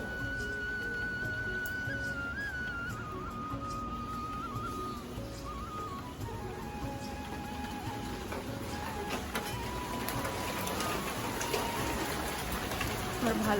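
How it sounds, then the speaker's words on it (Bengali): Steady rain falls throughout, a dense, even hiss with scattered drip ticks that grows slightly louder toward the end, with faint tonal background hum and no talking. "বৃষ্টি পড়ছে,"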